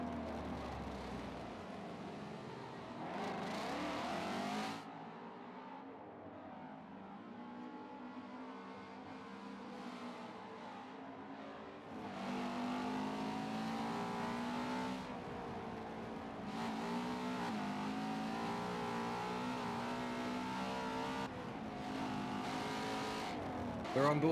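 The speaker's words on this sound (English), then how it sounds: "Hannah, how great these Voodoo naturally aspirated V8s under the front bonnet of these Ford sound" A Ford Voodoo naturally aspirated V8 races around a circuit in Forza Motorsport 7, revving hard and changing pitch through gear shifts, with a commentator talking over the loud engine.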